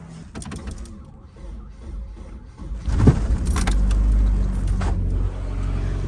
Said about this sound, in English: All right, well, the car started.